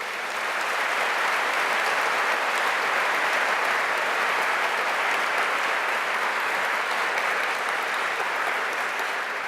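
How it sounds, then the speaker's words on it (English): A large audience at a city planning presentation on New York resilience breaks into sustained, even applause that fills the whole stretch at a steady loud level, with no speech over it. "they really all deserve a big round of applause"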